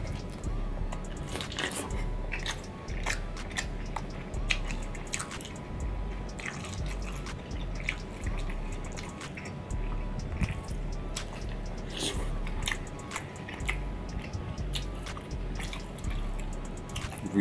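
Giant prawns being chewed up close in a seafood mukbang: wet, squishy bites and smacking, dripping mouth sounds repeating throughout, loud and intimate, with no voice.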